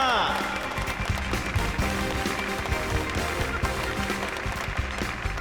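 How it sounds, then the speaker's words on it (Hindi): An audience gives a guest a dense, steady round of applause at a stage event, the clapping sustained and evenly loud from start to finish. "एक बार फिर से इनके लिए जोरदार तालियां।"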